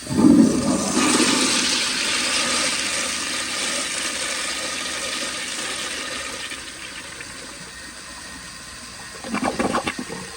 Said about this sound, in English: Let's see if it just shoots out or if it'll actually flush.